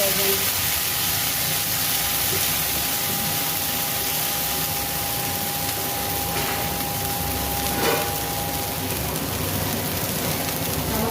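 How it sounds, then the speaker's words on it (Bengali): An egg and eggplant curry, seasoned with turmeric and chilli, sizzles in the pan after salt water is poured in. A dense, even hiss runs continuously throughout, with a faint steady tone behind it. "লবণ জল দিয়ে কষে দেবো"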